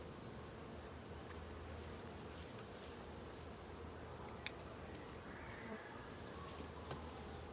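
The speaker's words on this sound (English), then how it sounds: "I want all of the bees off of this comb." Honey bees buzz steadily around a honeycomb pulled during a hive inspection and honey harvest, a soft continuous drone close by with no talk.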